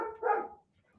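A muddy-pawed dog indoors gives one or two short, near barks, fairly loud, then falls silent.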